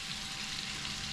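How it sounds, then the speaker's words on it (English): Fish fries in butter in a pan for a stew, giving a steady, close hiss and sizzle that runs unbroken for the whole short stretch, with no voices over it. "Just let it cook in that butter."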